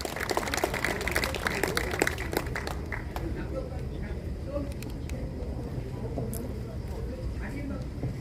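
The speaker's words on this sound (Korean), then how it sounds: "박수로 환영해 주시기를 바랍니다" An audience at a 72nd Incheon Landing Operation victory commemoration ceremony claps to welcome a speaker, thick applause for about three seconds that then thins out, with speech heard alongside it.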